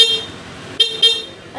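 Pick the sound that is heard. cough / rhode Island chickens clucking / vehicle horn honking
vehicle horn honking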